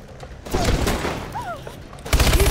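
Gunfire in the video game Call of Duty: Advanced Warfare, with a loud, dense burst of shots and booming impacts filling the scene, and a louder volley near the end.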